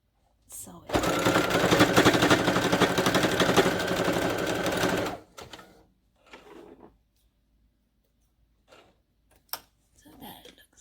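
A sewing machine stitches a homemade fabric mask in one steady, fast whirring run of about four seconds, close and loud, followed by soft handling clicks and rustles.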